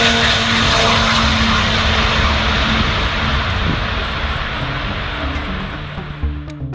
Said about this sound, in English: The Antonov AN225 Maria is a strategic airlift cargo aircraft